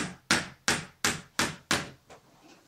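Five hard, evenly spaced hammer blows drive large nails, each one a sharp, loud crack with a short ringing tail, ending in a couple of softer taps.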